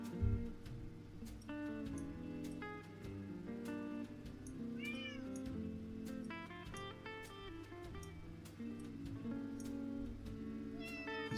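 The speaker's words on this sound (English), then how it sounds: "Yes, you're a cat!" A house cat meows several times over a steady backdrop of music, the calls close and clear but moderately quiet, with no talk during them.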